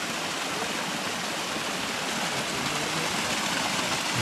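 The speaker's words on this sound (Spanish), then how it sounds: "aquí está la cascada" A constant, dense roar of a waterfall in Altotonga, Mexico, loud and unbroken throughout with no voices.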